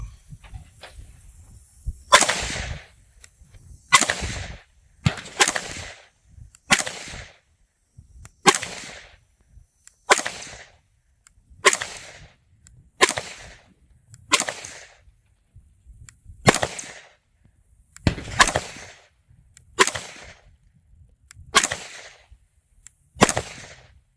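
Sharp, loud pistol shots from an FN Five-seveN MkIII firing 5.7 mm SS-195 and SS-197 rounds on a range, spaced in quick groups of five with brief pauses between strings, no talking.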